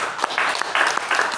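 Church congregation clapping together in a service, a steady wash of applause rising and falling in a few loud bursts with no voices over it.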